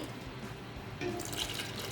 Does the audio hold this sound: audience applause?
no